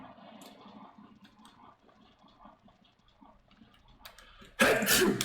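A single sharp sneeze bursts out loudly at the end, after a stretch of quiet, muffled background talk.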